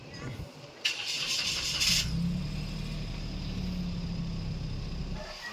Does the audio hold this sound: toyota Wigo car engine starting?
yes